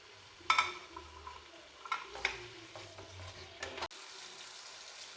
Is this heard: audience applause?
no